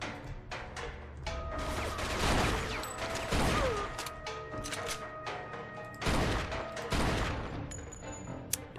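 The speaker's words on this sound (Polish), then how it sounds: "Jeden strzał." Several sharp gunshots and bursts of gunfire crack through a busy soundscape in the video game Mafia II, with heavy impacts and scattered mechanical clatter.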